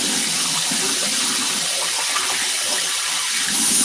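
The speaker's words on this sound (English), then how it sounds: "rinse out the little shot cup" Tap water runs steadily from a faucet into a sink while a small plastic shot cup used for hair dye is rinsed out, a continuous broadband gush heard alone and close.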